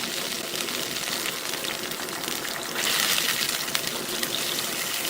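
Sweet and sour sauce made with sugar comes up to a boil in a pot. It gives a continuous close hiss of bubbling that grows slightly louder partway through.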